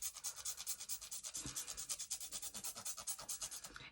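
Rapid rhythmic scrubbing of a makeup brush with Real Techniques Brush Cleansing Gel, a steady stream of soft, close rubbing strokes that keeps going without pause.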